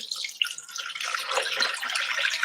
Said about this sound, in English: All I need to do now is add my filtered water.